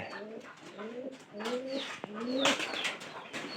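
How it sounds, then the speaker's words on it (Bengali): Pigeons in a loft cooing in repeated low rolling phrases, close by and clear, with faint chirps and some background noise around them. "এটা কিন্তু সাইজে ভালো একটা কবুতর, আপনারা দেখে নেন"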